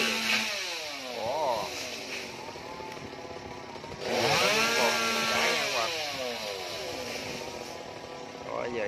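A chainsaw revs and whines while cutting a coconut tree near power lines, rising and falling in pitch, with a louder surge midway; a voice talks over it.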